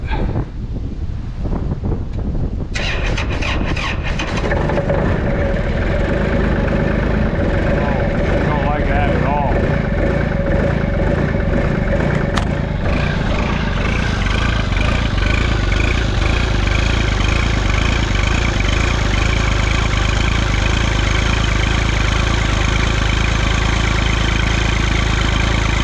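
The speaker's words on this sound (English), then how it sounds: "Kubota 2501 cold start." Cold start of a Kubota L2501 tractor diesel engine after glow-plug heating: a short crank catches about three seconds in, then the engine settles into a loud, steady, rattly idle with some wind noise on the microphone.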